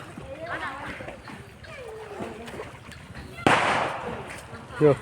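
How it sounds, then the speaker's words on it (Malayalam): A firecracker bursts outdoors partway through with a sharp bang, followed by a lingering crackle and a second smaller pop, with people talking throughout. "എന്താ പടക്കം പൊട്ടി"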